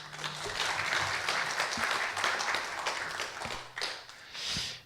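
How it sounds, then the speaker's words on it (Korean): An audience at a KIST lecture event gives a big round of applause for two speakers, a full, sustained clapping from the hall that thins toward the end, a faint voice or two briefly audible near the close. "두 분께 다시 한번 큰 박수 부탁드립니다."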